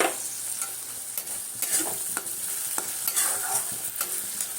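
Moong dal filling for khasta kachori fries in a pan on low gas, a continuous close sizzle broken by repeated scraping and stirring strokes, with no voices.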